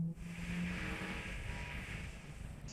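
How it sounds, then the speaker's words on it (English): Inside a 400 hp car on the Nürburgring, the engine accelerates in fourth gear with a steady broad roar and rushing wind noise, constant and fairly quiet throughout. "Here, I'm in 4th gear. I'm accelerating again."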